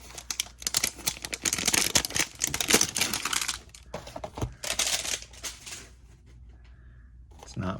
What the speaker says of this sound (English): We'll apologize for the noise of this shrink wrap.